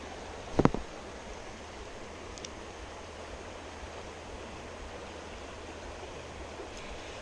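A mountain river flows steadily at a crossing, a faint, even rushing wash with one brief sharp knock near the start.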